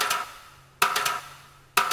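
Three dry rimshots, struck close and sharp with a bright crack and a short decay, spaced about a second apart, with no reverb, EQ or talking.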